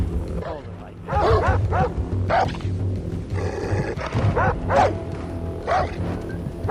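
A dog in the Far Cry 3 video game gives several short, loud barks spread across a few seconds, mixed with growling in-game sound and a person talking over it.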